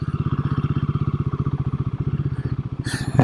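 A Royal Enfield Himalayan Rally 450 motorcycle on knobby tires rides over gravel, its engine thudding in fast, even pulses close by, with a sharper rise at the end.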